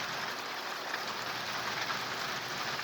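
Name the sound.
light rain falling in Arizona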